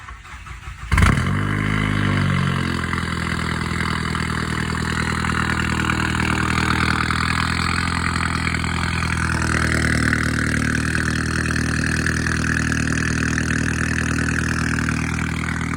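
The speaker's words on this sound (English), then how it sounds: "This is a cold start." A GLI engine with a catless downpipe exhaust fires up from cold with a sudden loud crank and catch, then settles into a loud, close, steady high idle that drops slightly in pitch partway through.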